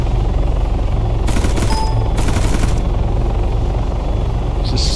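Rapid automatic gunfire bursts in a military video game session, two dense volleys standing out over a steady loud engine-like drone, with brief talk near the end.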